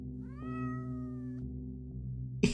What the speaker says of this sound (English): Wait, I'm gonna pet the kitty one more time.